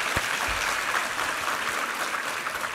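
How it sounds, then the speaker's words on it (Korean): Congregation applause during a Sunday church sermon, a steady wash of many hands clapping at moderate loudness from a roomful of worshippers, with no talk over it. "우리 하나님께 감사와 영광의 박수 올려드리겠습니다"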